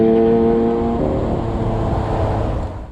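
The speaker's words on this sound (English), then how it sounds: "An Aventador going down the road is a fairly uncommon sight to see" A Lamborghini Aventador SV, the lighter, more powerful version of the Aventador, drives along a road with a steady engine note that fades slightly toward the end.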